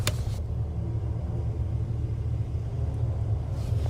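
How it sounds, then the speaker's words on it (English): A car rumbles past at speed near a campsite at night, a loud, deep, continuous roar that holds steady throughout with a brief sharp noise at the start and no talk. "Now I hear really fast driving."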